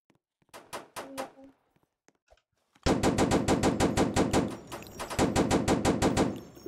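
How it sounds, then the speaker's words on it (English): Roblox video game gunfire: a few scattered shots, then sustained rapid automatic bursts, loud and close, with a brief voice near the start. "You're getting shot."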